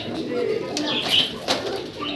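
A young pair of white Bombay pigeons giving a few soft, low cooing notes with brief wing flutters, close by, while someone talks over them.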